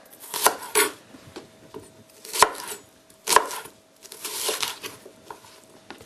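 Peppers being cut with a knife on a board for a pepper and shrimp pie, close irregular chops and sharp knocks with crisp slicing bursts in between, no talk.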